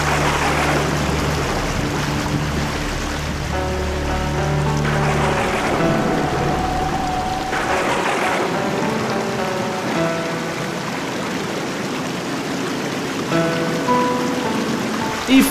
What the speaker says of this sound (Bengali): দেখেছো, বলতে বলতে বৃষ্টি শুরু।